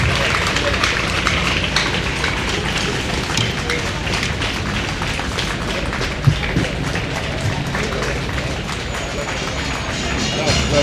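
An indoor ceremony crowd greets the health minister with sustained applause: dense, even clapping from many hands that stays steady throughout, with a faint thump partway through.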